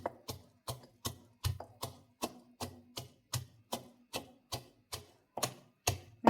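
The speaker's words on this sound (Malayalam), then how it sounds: "ഇനി നമുക്ക് ഇടികൊള്ളി കൊണ്ടൊന്ന് ഇടിച്ചെടുക്കാം." Bird's eye chilli chutney with tamarind and salt pounded with a pestle: about fourteen evenly spaced dull thuds in a steady rhythm, close and clear with quiet between strikes.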